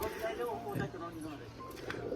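Pigeons coo softly in a loft, including a Teddy pigeon sitting on eggs, low burbling calls heard close under someone talking over them.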